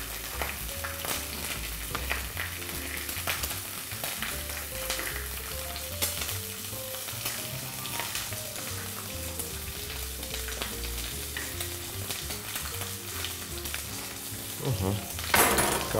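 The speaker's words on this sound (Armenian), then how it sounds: "Մսակտորի հետ միասին առաջարկում եմ բանջարեղեն տապակել։" Red and green sweet peppers fry in a pan with pork, giving a continuous close sizzle with occasional stirring scrapes and clinks. Soft background music plays underneath for the whole stretch.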